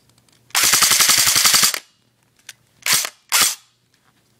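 Airsoft AMR rifle firing and cycling, a long rapid burst of sharp cracks followed after a pause by two shorter bursts, loud and close with no talk.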